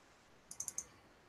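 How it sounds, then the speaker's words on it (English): Mouse clicks while browsing through pictures on a computer, four quick sharp clicks in a short burst, close and crisp against a quiet room. "See, you'll hear me clicking through here."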